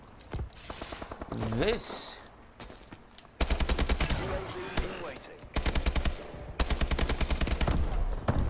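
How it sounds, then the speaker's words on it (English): AK-12G assault rifle fire in the shooter game Call of Duty: Advanced Warfare, loud rapid automatic bursts in several strings with short pauses, over game sound effects and brief talk. "Alright, bam, AK-12G."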